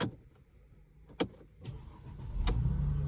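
A Mercedes engine turns over after key programming, with a few sharp clicks and clunks from the key and ignition before the engine catches and settles into a low, steady running rumble close by.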